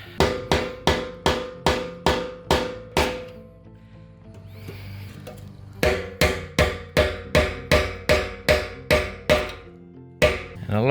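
A hammer striking the rusted retaining ring on an old Ford F-150 fuel tank: a steady run of sharp metallic blows, loud and close, a short pause with faint rustling, then another rapid series of evenly spaced hits.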